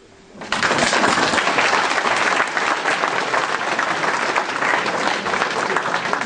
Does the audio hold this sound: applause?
yes